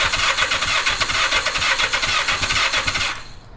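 An engine cranking over on the starter during a spark plug check, a loud rhythmic chugging churn that runs steadily for about three seconds, then cuts off abruptly.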